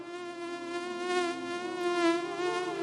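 A mosquito sound effect buzzes continuously with a thin, rich whine that swells and fades slightly, steady and alone without any voices.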